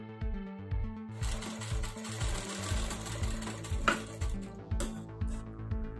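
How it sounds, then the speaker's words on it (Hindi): A sewing machine runs in steady bursts while stitching a tuck into a black cloth blouse, its rapid rhythmic clatter close and loud, pausing briefly between runs. "तो अब हमें इसमें जो निशान लगाए थे उस पर सिलाई करेंगे।"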